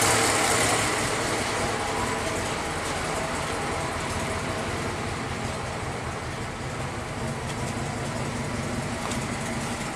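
Old Ford engine that had been stuck and treated with fluids poured through it, running: a steady, loud, rough idle rumble throughout, with no talk.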